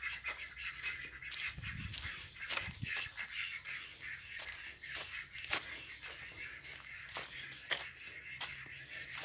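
Ducks kept shut in a pen, from a flock of laying ducks, honk and quack in repeated short calls against a steady background hiss, with a louder low burst near the start.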